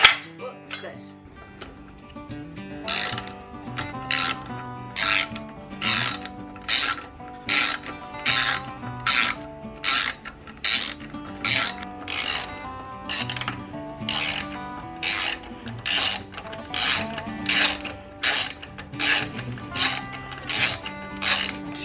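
Hand ratchet working bolts off a Holley Sniper throttle body, a steady run of quick, evenly spaced metallic clicks heard up close over about twenty seconds with no talking.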